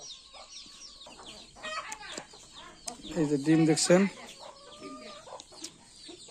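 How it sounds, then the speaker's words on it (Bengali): Native hens with their chicks cluck close by in short soft bursts that rise to a louder run of clucks midway, while someone talks over them. "এই যে ভিতরে মুরগি আছে, এই যে মুরগি, এই যে বাচ্চা।"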